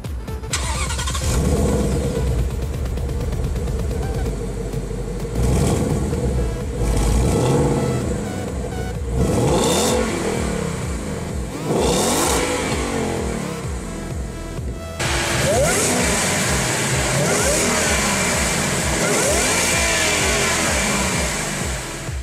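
A Roush supercharged 2017 Ford Mustang GT500 roars through repeated hard revs while driving, loud rising and falling engine sweeps with brief lulls between pulls, close and dominant with no talk.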